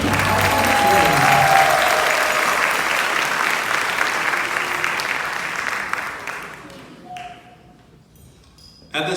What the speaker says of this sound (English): please give Deloitte a loud round of applause for supporting the Alpha Bros.